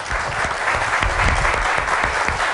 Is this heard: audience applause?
yes